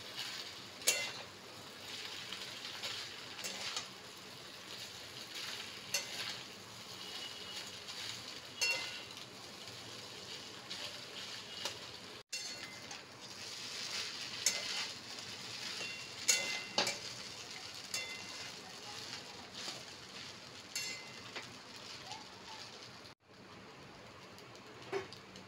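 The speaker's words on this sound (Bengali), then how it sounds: "আমি চাউমিনটা ভালো করে মিক্সড করে প্রায় 4 থেকে 5 মিনিট হাই ফ্লেমে ভেজে নিয়েছি" Veg chowmein noodles with no onion or garlic stir-fried on high flame, a steady scraping and tossing clatter with faint sizzle running throughout, mid-distance and moderately quiet, with no one speaking.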